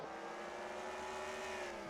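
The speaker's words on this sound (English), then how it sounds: "That 10 car, that bright neon green machine, is on the move." A race car engine in the Superstar Racing Experience video game, a continuous loud tonal whine holding steady throughout, with no voices over it.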